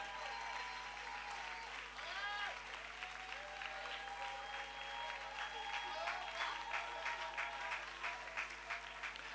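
A church congregation applauds continuously, a dense patter of many hands clapping with cheers and voices calling out over it, sustained at moderate level throughout.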